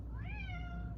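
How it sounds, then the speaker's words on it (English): A house cat gives a single drawn-out meow, rising then falling in pitch, close and clear over a low background hum. "My cat acts like I never feed her. She's like, "Meow, meow, meow.""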